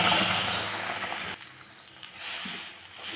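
Masoor dal is tipped into a hot pot of tempered bay leaf, dried chilli, cumin, asafoetida and garlic, giving a loud hissing sizzle that cuts off abruptly into a quieter simmering bubble.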